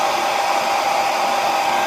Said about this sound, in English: So I am drying it with a hairdryer.